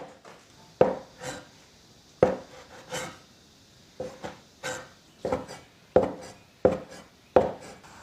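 A kitchen knife slices konjac into strips on a cutting board, about ten sharp thuds at a slow, uneven pace, each followed by a brief scraping slide, close and clear.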